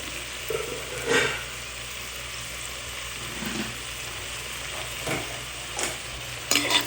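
Tomatoes with a pinch of salt sauté in coconut oil, a low steady sizzle broken by several spatula stirs and scrapes, the last ones louder, with no talking.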